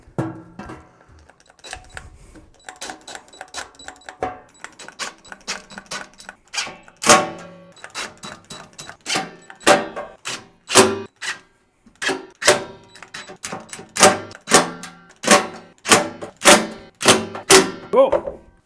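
Screws driven into holes in a metal electrical enclosure, a close series of quick rhythmic clicking ratchet bursts that grow louder and denser, with faint talk early on.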